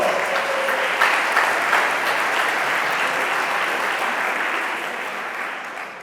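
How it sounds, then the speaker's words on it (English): A steady wash of audience applause at a town hall meeting in Winston-Salem, loud and sustained for several seconds before tapering off slightly at the end. "Give him a round of applause."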